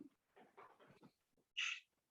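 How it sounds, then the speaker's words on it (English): A pet dog at home whimpers and whines in several soft bursts, then gives one sharper high-pitched yelp close by, with quiet pauses between. "don't mind my dog"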